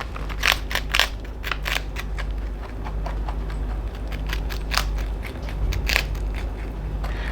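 A small pet crunches dried strawberry, a rapid series of crisp, close bites and crackles repeating steadily over a low background hum.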